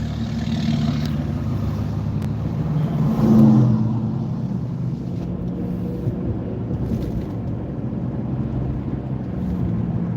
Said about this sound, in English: There's a diesel F-250. You can hear it.